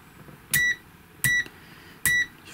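Owon OW18E Bluetooth multimeter on its continuity setting gives three short, sharp electronic beeps, evenly spaced about three-quarters of a second apart, clear and close against a quiet background.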